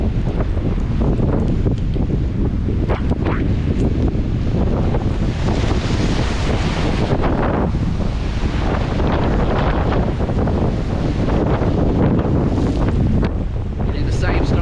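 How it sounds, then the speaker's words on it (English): Strong hurricane wind gusts from Hurricane Ida blast across the microphone in Orange Beach, Alabama, in 2021. The roar is loud and continuous, surging and easing, with surf noise beneath it. "Strong wind gusts."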